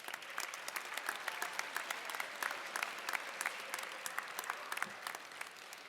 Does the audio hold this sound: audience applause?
yes